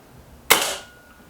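A single Kral Pro 500 air rifle shot fired during target shooting, a sharp close crack that decays quickly into a short fading tail, with no talk.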